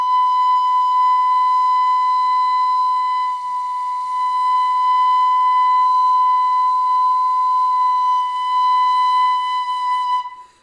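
Piccolo holding one long, focused high tone, pure and steady with bright overtones, loud and alone for about ten seconds with a slight dip partway through before fading out.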